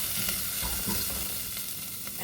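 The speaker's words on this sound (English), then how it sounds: "let's go in with our broth" Cold, thick broth going into a hot pot for rice and turkey soup, a close steady sizzle with some stirring scrapes and no speech.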